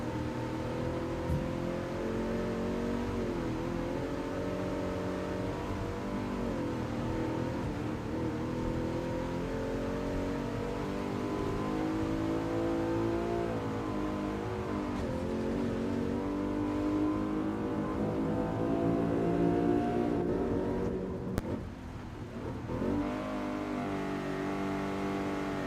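Race car engines from Gran Turismo Sport drone and rev without a break, pitch climbing and dropping through gear changes with several passes and surges, loud and continuous with no talking.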